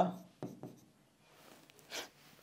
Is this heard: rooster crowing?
no